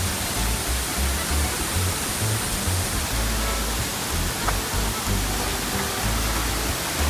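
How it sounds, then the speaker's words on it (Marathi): A second waterfall along a trail near Mumbai roars in a constant, loud, broadband rush of falling water, with no breaks or voices. "आज समोर सेकंड वॉटरफॉल आहे"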